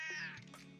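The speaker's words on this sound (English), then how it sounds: "My cat was meowing." A pet cat meows once, a clear, drawn-out, rising-then-falling cry heard close up over faint room hum during a livestream call.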